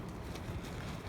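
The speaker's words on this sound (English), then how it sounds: "That's how windy it is outside." Strong winter wind buffets a camp in cold East Ohio woods, a steady broadband rush with gusts swelling and fading over about a second, loud and close against the microphone with no voices.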